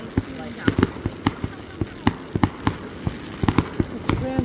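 Fireworks bursting during a grand finale display, a rapid irregular series of sharp booms and crackles, some close together, with people chatting excitedly underneath.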